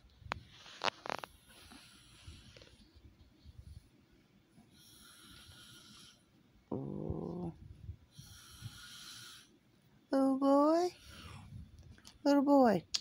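A man snores loudly in the background, heavy rasping snorts and long droning breaths coming in bursts, while someone talks softly between them indoors.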